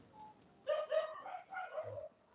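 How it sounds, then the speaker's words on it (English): Dogs bark somewhere in the background, a faint, distant run of four or five yelping barks in two short bursts with no talk over them. "In the background, dogs are barking,"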